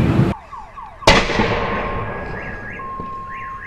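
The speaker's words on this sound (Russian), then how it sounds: "И сейчас начинают взрываться колеса." Two sharp, loud bangs of car tires bursting in a parking lot fire ring out, the second echoing and fading slowly, while car alarms wail and warble in the background.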